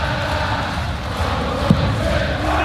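A large darts crowd at a Premier League night in a packed arena gives off a sustained roar of cheering and chanting, dense and loud throughout, with a brief sharp thump partway through.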